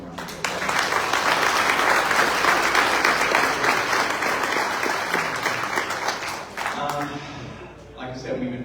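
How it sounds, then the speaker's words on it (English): An audience at a community mixer applauds, a dense burst of clapping that holds strong for several seconds and then thins out and fades, heard close in an indoor room. "So let's give him a round of applause."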